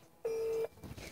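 A telephone keypad dialing a number, a single clear beep tone that sounds briefly and loud, followed by faint background noise.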